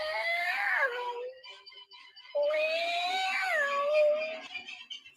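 A human voice imitates Tom the cat from Tom and Jerry growling in place of the lion, producing two long, loud, wailing yowls with bending pitch separated by a short pause.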